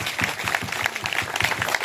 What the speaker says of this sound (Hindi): जोरदार तालियों के द्वारा स्वागत।